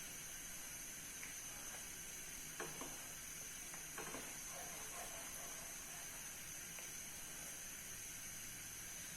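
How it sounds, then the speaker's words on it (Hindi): Milk and sugar thickening in a pan on the stove while a spoon keeps stirring, giving a steady low sizzle and hiss with a few soft scraping clicks, faint and with no talk. "इस तरह से हम इसमें चम्मच हिलाते रहेंगे और इसको इस तरह से ही हमने कुक कर लेना है।"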